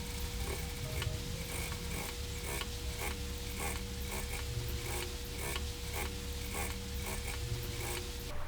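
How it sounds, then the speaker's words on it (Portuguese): Domestic sewing machine stitching a fabric beach box pouch, a steady rapid mechanical whir and clatter running continuously and fairly faint. "vou continuar a minha costura até o final"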